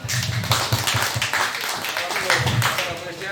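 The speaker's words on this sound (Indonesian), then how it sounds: "Sebelumnya kita tepuk tangan dulu dong." A crowd claps rapidly and continuously, mixed with voices and chatter throughout.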